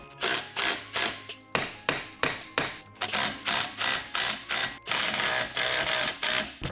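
An impact wrench drives a puller to split the crankcase of an RM250 engine during a rebuild. It fires in rapid, rattling hammer bursts, loud and close, in quick rhythmic pulses for several seconds.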